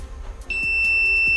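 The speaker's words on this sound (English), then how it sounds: "you're going to get a sound coming out of the blowhorn" A steady piercing alarm tone sounds from the blowhorn of an OWI Robotics STEM alarm kit, starting abruptly and holding continuously near and loud, with a few faint thumps in the background.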